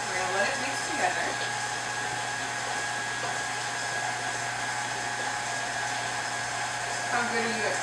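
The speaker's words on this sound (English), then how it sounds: "So if you just want to start the mixer, you want to start it on low." Stand mixer running on low while blending butter, brown sugar, white sugar and vanilla, giving a steady close motor whir with a constant hum throughout.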